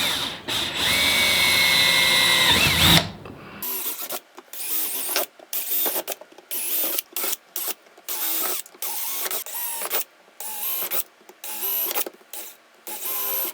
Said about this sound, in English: now we're going to take our 5/16 bit and drill in all these spots